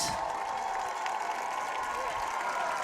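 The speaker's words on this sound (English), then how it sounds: "let's give a big round of applause for the mini dancers" Crowd applause and cheering in the stands at an IHSA varsity high school football game, Bartlett vs. Glenbard North, for the mini dancers, a steady broad wash of distant clapping with a public-address voice over it.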